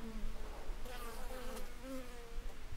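Honeybees in an opened beehive with the roof lifted off, making a continuous, faint, wavering buzz as individual bees drone close by.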